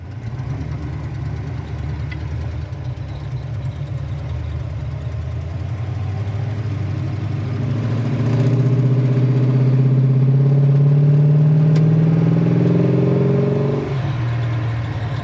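A 1969 Plymouth Satellite idles with a steady mid-pitched hum, then revs up for several seconds before settling back to idle. The engine is close and clear, with no voices.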